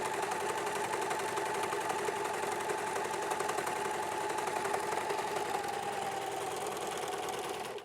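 An Elna 664 Pro overlocker runs continuously, a steady close mechanical whir with a fine rapid stitching rhythm, holding at even loudness without pause before stopping at the very end.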